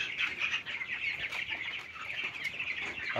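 Sixteen-day-old poultry chicks peep at night in a farm shed, a continuous busy chorus of high cheeping from many birds, soft and steady with no talk.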